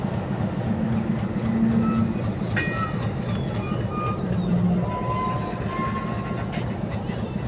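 A long train passes close by with a continuous heavy rumble and rattle of cars, while brief high whistle-like squeals and tones rise over the noise at intervals.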